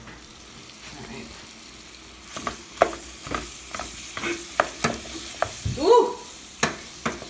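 Food frying in a pan with plenty of olive oil and being stirred: a constant low sizzle broken by repeated sharp scrapes and clacks of the utensil against the pan, close up, with a short exclamation from a voice.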